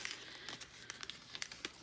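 A Cricut Infusible Ink sheet for snowflake coasters is rolled and peeled away from its backing, giving quiet, close crinkling and rustling with small crackly bursts.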